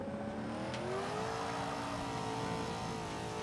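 Buick GNX in Forza 5 with its engine held at high revs, a sustained droning whine that bends slowly in pitch as it is used to help brake, steady and fairly quiet throughout.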